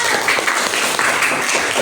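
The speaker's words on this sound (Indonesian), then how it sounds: "Beri aplaus, tepuk tangan." Classroom audience applause, a dense burst of many hands clapping together at close range, loud and sustained without a break for the full stretch.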